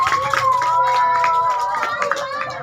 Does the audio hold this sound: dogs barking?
no